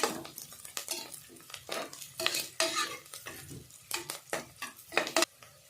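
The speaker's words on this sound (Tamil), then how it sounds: "நல்லா போட்டு அப்படியே வதக்கி விடலாம்." Chillies sautéing in a pan for a Tamil recipe, heard as a steady oily sizzle broken by repeated scraping stir strokes of a spoon against the pan, close and moderately loud with no voices.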